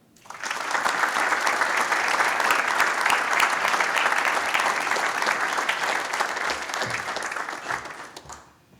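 An audience at a national small business awards ceremony gives sustained applause for an honored solar startup. Thick, even clapping swells in quickly, holds loud for about eight seconds, then fades.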